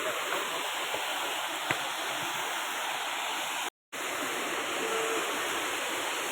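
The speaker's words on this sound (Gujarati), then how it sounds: "જો મિત્રો પહાડનું પાણી કેવું આવી છે." A mountain stream swollen by very heavy rain, a constant close rushing roar of flowing water with a brief dropout near the middle.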